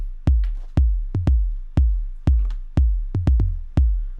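A longer kick drum pattern programmed in Ableton Live: about a dozen deep, punchy electronic kicks with decaying booms, in an uneven syncopated rhythm, alone and close.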